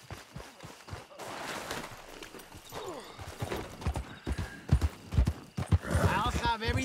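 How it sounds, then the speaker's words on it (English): Horses clip-clopping at a gallop in Red Dead Redemption 2, with repeated hoof beats and a whinny mixed under steady dialogue from characters talking throughout. "You hear those horses, those shots?"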